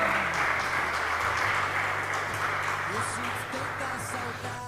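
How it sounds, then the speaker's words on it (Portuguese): Church congregation applauding during a sermon, a steady wash of clapping that fills the room and fades slightly toward the end, with low organ or keyboard tones underneath. "Pode aplaudir o Senhor Jesus aí."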